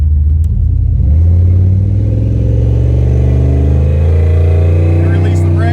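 A Dodge Dakota pickup truck revs hard during a line lock burnout, its engine holding a loud, sustained roar that steps up in pitch and stays close, with a voice speaking briefly over it.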